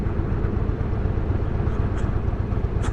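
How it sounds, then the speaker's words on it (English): Motorcycle engine droning loudly while riding a mountain highway pass, a dense, steady low roar mixed with wind rush, continuous and close for the whole stretch. "I hear an engine. A loud engine."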